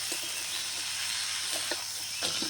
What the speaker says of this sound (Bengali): আবারও এই ডালের সাথে পটলটাকে কিছুক্ষণ কষিয়ে নেবো